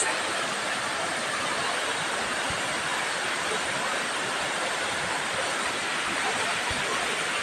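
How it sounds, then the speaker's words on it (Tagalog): Apalang Falls, a hidden waterfall in Abra de Ilog, Occidental Mindoro, pours in a steady, dense roar of rushing water that stays constant and loud throughout. "Apalang Falls. Napakaganda, napaka-fresh."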